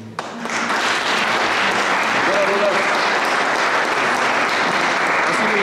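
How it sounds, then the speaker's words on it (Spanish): An audience applauds a lyricist at a morning mañanitas broadcast, a loud sustained wash of clapping that swells quickly and holds steady, with a voice briefly audible at the start. "Doña Carmen Romero, que le mandamos un fuerte aplauso."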